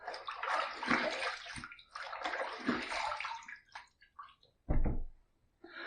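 Water running from a tap to rinse a razor mid-shave: two bursts of splashing flow about two seconds apart, then quieter trickles and a short, sharp splash near the end.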